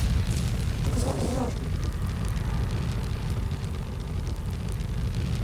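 An explosion in the video game Phoenix Point, a deep rumbling blast with a crackling burst near the start that settles into a sustained low roar.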